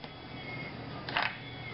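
A bolt slides out of the action of a Remington 722 .308 bolt-action rifle, with a short, bright metallic scrape near the end over a faint, steady background.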